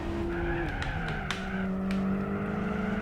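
A race car in Gran Turismo 4 runs at full throttle, a steady engine drone shifting pitch with tire squeal layered over it, loud and continuous, with a few sharp ticks scattered through.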